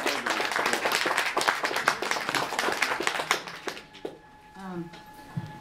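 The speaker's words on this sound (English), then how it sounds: "give her a big round of applause" A book launch audience applauds the author with dense, steady clapping for about four seconds, then it fades out as voices and a faint steady tone carry on.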